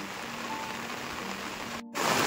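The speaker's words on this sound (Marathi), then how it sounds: "तर मंडळी पाऊस बघा जोरात सुरू झालो. आणि जोरात पाऊस लागता बघा." Heavy rain pouring steadily over open farm fields during a downpour, a dense continuous hiss with a brief dropout near the end before the rain returns even louder.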